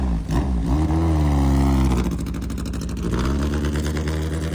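A car engine turns over and runs after the starter, a steady mid-pitched drone with a rev rise near the start, close and continuous throughout.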